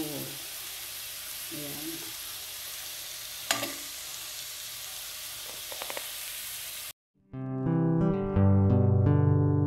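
Ingredients sautéing in a hot pan for pansit bato give a steady, close, loud sizzle with a few sharp utensil clicks and a brief spoken word, then the frying cuts off abruptly and music begins.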